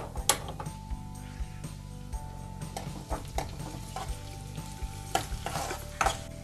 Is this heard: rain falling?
no